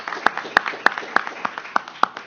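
An audience gathered at a venue in Philadelphia clapping in a round of applause, with distinct sharp claps landing in a quick, even rhythm, close and clear, with some voices underneath.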